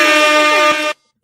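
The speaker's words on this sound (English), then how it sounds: "so you know she gets on air horn." A single loud, blaring air horn blast lasting about a second, then cutting off abruptly into silence.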